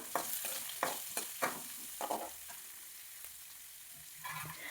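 Sliced onion and slit green chillies sautéing in oil for an okra tomato curry, with a spatula scraping the pan in quick bursts over a soft sizzle that settles to a quieter fry toward the end.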